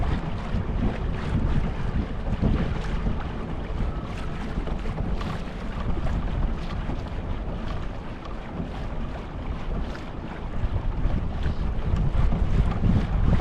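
Electric trolling motor on a small boat running at 100% throttle, barely reaching 4 mph; a steady broadband wash of motor, water and heavy wind buffeting on the microphone continues throughout, with no voices.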